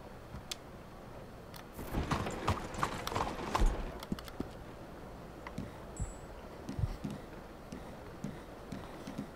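A Hungarian Half-bred horse in Red Dead Redemption 2 walks with a steady clip-clop of hooves, a burst of louder, busier steps early on, then irregular fainter footfalls, with no voices.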